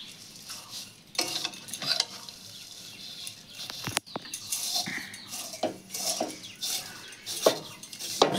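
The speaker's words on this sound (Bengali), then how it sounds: "সিমুইটা ভেজে নেওয়া হচ্ছে ঘিয়ের মধ্যে দিয়ে" Vermicelli frying in ghee in a pan, a quiet sizzle broken by scraping stirs and occasional clinks of a utensil against the pan.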